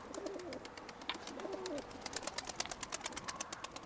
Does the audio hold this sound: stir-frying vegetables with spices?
no